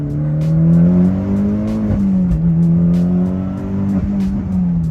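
A Mitsubishi Lancer Evolution X engine revs loudly and steadily, the pitch rising and dipping a few times as the throttle is worked, with no talking.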